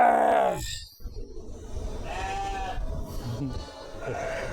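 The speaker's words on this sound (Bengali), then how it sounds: "চারিদিক তো ছাগলের ডাকা।" Farm goats bleat loudly nearby in wavering cries, a couple of calls with brief pauses between them over faint background noise.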